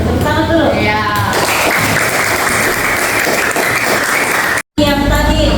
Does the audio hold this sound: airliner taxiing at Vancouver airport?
no